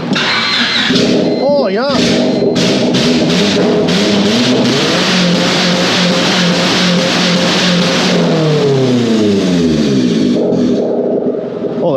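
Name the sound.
car engine starting and revving after welding test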